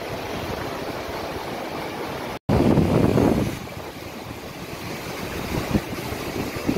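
Sea surf and wind wash over a beach in Gujarat where fresh rainwater runs out into the ocean, a steady broadband roar with a brief dropout and a louder surge of breaking water before settling.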